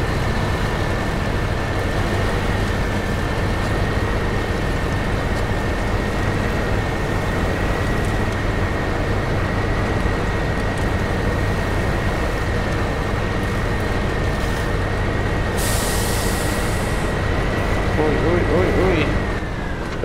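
Royal BM17 truck engine in SnowRunner, hauling cement in a Michigan region, a loud, steady rumbling drone with a sustained tonal whine that rises and swells briefly near the end.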